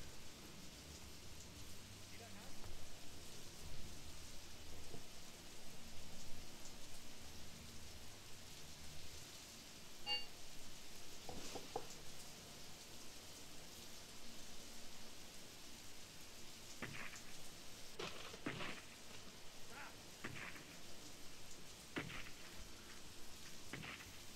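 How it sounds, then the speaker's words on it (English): Heavy video-game rain in Graviteam Tactics: Mius Front pours steadily with a constant hiss, punctuated by occasional louder splashes and knocks. "in a freaking torrential downpour"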